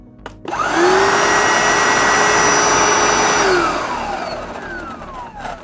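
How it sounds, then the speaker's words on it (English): A Hoover SD101 cordless vacuum cleaner switches on with a rising whine, runs at a loud steady pitch for a few seconds, then winds down. "the vacuum cleaner is working again"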